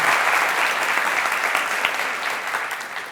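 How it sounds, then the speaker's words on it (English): A room at the 2025 Colorado Book Awards celebration fills with steady, dense applause from a large audience, sustained evenly throughout and easing only slightly at the end, with no voices over it. "Some applause for all of those people involved."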